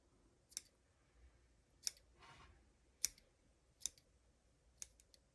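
Small scissors snip the thread loops of cross-stitch embroidery in five or six sharp, faint clicks spaced about a second apart, close up in a quiet room, with a soft rustle between cuts.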